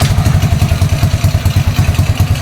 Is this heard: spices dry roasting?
no